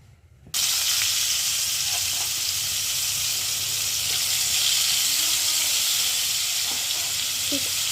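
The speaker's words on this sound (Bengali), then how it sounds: "মাছটা আমরা এক এক করে ভেজে নেব।" A loud, steady sizzle erupts suddenly as snakehead fish pieces hit hot mustard oil in a kadai, then frying hisses continuously with occasional pops and light clatter.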